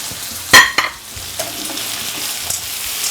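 Corned beef with sweet corn sizzles in a pan, opening with a couple of sharp spoon scrapes and clinks as it is stirred, then settling into a steady, moderate frying hiss.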